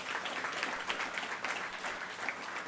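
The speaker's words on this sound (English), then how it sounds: "I want you to give yourselves a big round of applause" Audience at a Trinidad and Tobago political rally applauding, a dense, even wash of many hands clapping that carries on steadily with no pause.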